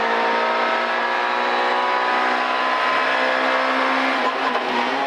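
Inside a rally car on stage ES12 of the 2016 Rallye Viviers Pays-Haut, the engine holds a loud, steady roar, then eases off under braking near the end before picking up again.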